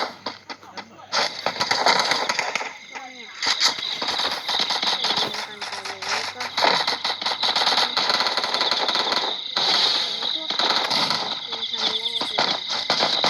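Bursts of gunfire in the video game Free Fire, crackling shots running almost continuously amid game noise and music while people talk over them.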